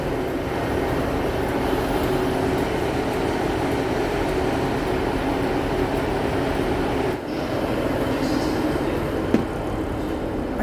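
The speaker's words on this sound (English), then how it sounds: "This is the train that's going to take us to Okehampton." A steady, loud rumble and hum of a passenger train on the Dartmoor Line to Okehampton fills the whole stretch, even and continuous, with a faint clunk near the end.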